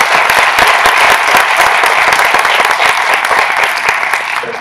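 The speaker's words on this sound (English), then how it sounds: "So let's give them a round of applause." An audience at a Mayo Clinic ice fishing event claps in a dense, loud round of applause that holds steady and then tapers off slightly toward the end.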